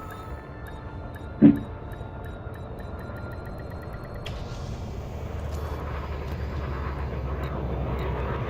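A spaceship touches down in Elite Dangerous with a short sharp thump, followed by a steady low engine rumble that swells and settles as the craft comes to rest, with a faint synthetic tone above it.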